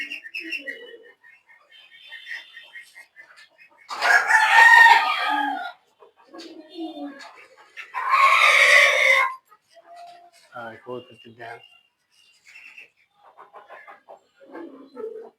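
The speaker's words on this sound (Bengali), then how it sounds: "কি ভাই মোরগটা দেখেন এই যে হাঁস মোরগটা দেখেন" A rooster at a pigeon keeper's home crows loudly twice and clucks in between, with other fowl and birds faintly around and someone talking.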